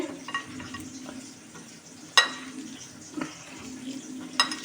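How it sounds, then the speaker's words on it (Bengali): Gram flour (besan) worked by hand into chopped ingredients in a bowl, a soft continuous squelching and rustle punctuated by a few sharper clicks and knocks, close and fairly quiet with no talking. "এবার আমি এইটা বেসনের সাথে মাখাবো"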